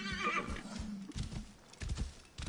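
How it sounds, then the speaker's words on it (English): A horse in Assassin's Creed Origins gives a loud whinny, followed by several clip-clopping hoofbeats at a moderate distance. "Huh, horse."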